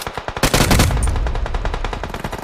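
Rapid bursts of gunfire ring out as enemies are shot in a shooting video game, a loud dense rattle of repeated shots that swells in the middle and keeps pulsing throughout with no talking.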